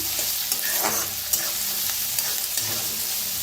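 Leftover bhakri mixture with peas roasting in a pan, a steady close sizzle with scraping stirring strokes of a spoon throughout, no voices.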